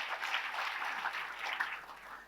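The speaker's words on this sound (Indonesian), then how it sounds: "tepuk tangan yang paling meriah" A crowd applauding steadily, a dense wash of clapping from many hands that carries on evenly without pause.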